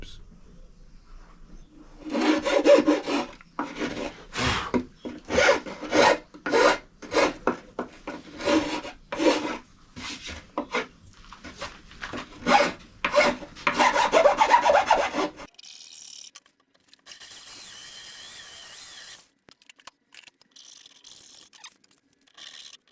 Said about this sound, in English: the tear out in the middle of the board that we can now sort out with a file very easily